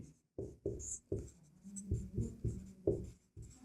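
Pen writing on paper while working a math problem, a quiet close series of short scratchy strokes in an irregular rhythm with brief pauses between them.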